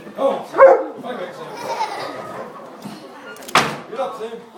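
At a sheep shearing show, a dog lets out a couple of sharp barks amid people talking and some handling noise nearby.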